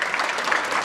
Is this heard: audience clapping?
yes